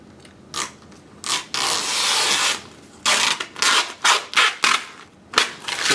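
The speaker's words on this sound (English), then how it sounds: "so now we can actually remove the excess film" Excess vinyl wrap film pulled off a vehicle after a knifeless-tape cut gives a series of loud, close ripping and peeling bursts, a long steady pull followed by several short tugs, with no voices.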